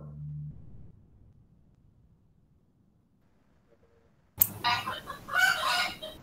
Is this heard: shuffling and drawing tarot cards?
no